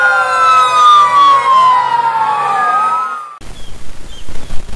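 A toy fire truck siren wails loudly with a rising and falling electronic tone, cutting off abruptly, followed by brief rustling and handling noise.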